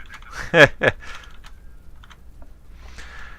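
A few quick keyboard clicks during online flight-sim air traffic control, bunched in a short burst near the start with faint scattered taps after, close and fairly loud over quiet background.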